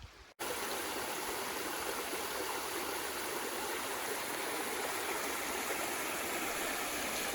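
A stream flowing along a valley bank in a natural area, a steady broadband rush of moving water, close and continuous, after a brief quiet start.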